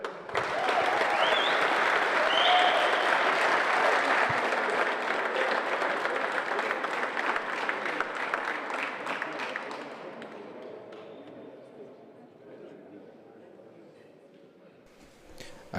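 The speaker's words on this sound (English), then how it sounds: "Give us one more big cheer for the players." A large crowd at an All-Ireland senior singles softball handball final applauds and cheers loudly and steadily for the players, then the clapping thins out and fades to a low murmur.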